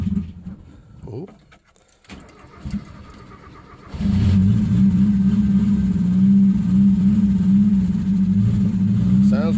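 A car with a manual clutch is cranked after sitting a week, then catches and idles roughly with a loud, uneven low rumble that continues to the end, after quieter handling sounds.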